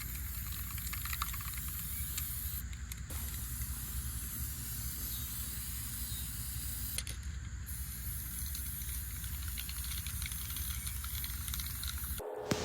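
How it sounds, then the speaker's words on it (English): A continuous, even hiss of a spray paint can held down for a long stretch while painting a case, with a couple of brief pauses and a click near the end. "About to spray paint this."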